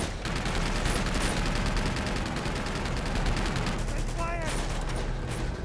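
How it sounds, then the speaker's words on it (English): Sustained enemy machine-gun fire in the shooter game Uncharted 2, a dense, continuous rattle of rapid shots with a brief higher pinging burst near the end, loud and steady throughout, with faint voices mixed in. "I want the machine gun taken out."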